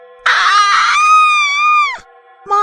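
A cartoon witch lets out a long, piercing, high-pitched scream that wavers and then drops off sharply, followed by a brief second shriek, loud and close.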